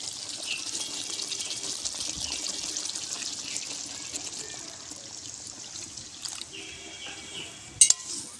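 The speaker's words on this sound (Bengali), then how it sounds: "এবারে জল দেব।" Water pours into a cooking pan of new potato curry, a thin, hissing trickle and splash that runs steadily and eases off, ending with a couple of sharp clinks near the end.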